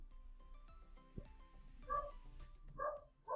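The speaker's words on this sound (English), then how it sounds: "but the dogs are barking" A few sharp dog barks, moderately distant, come in quick succession toward the end over a quiet background.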